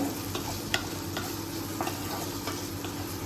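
Food fries in a pan with a little oregano added, giving a steady, fairly loud sizzle with a few soft clicks of stirring running through it.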